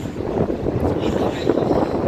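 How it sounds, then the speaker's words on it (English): A sudden gust of wind roars against the microphone outdoors near a river, a steady, loud, low rumbling buffet that fills the whole moment. "It really got windy all of a sudden."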